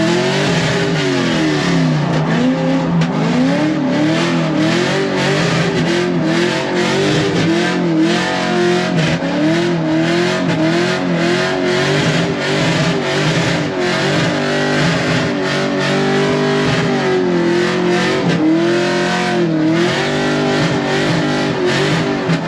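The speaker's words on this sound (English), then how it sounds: "we're gonna give him a little taste of drifting" A 500HP LS3-swapped Mazda Miata drifts around a track, its V8 revving hard and wavering continuously while the tires squeal and howl, loud and close throughout with no talking.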